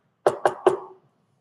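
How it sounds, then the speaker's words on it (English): Three quick knocks on wood, close and distinct with short hollow decays, evenly spaced then silence. "knock on wood right now"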